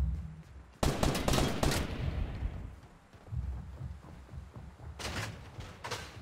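Enemy gunfire in Fortnite Battle Royale, a loud burst of rapid shots, then quieter rumbling and scattered thuds, and a second short burst near the end.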